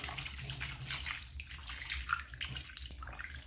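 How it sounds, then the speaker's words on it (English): Water pours over raw chicken gizzards being rinsed, a continuous soft splashing and trickling at low level, heard alone without talk. "we pour water over our gizzards"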